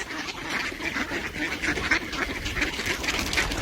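Several ducks quack close by in a busy, overlapping chorus, repeated nasal calls coming every half second or so over a steady outdoor rumble, with no talking.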